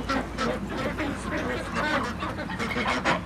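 Native domestic geese honk and cackle in a dense, overlapping stream of nasal calls, loud and continuous, with light rain falling outdoors.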